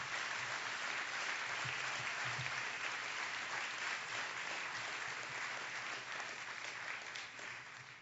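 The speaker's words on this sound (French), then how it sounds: "Je pense qu'on peut se permettre une bonne main d'applaudissements pour l'organisation de cette activité." A gala audience at the Zénith awards gives a sustained round of applause for the event's organisers, dense, even clapping from many hands that thins slightly toward the end, fairly quiet overall.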